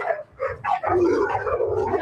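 Several dogs bark and yip close by in short overlapping bursts, with whimpers and low growls between, about two seconds of busy canine noise.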